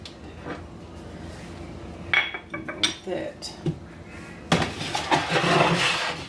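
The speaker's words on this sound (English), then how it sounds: "I'm getting ready to take my macaroni out of the oven" Macaroni being taken out of a hot oven at Sunday dinner brings loud clanks and clatters of metal pans and oven racks, with bursts of rattling close by in an otherwise quiet kitchen.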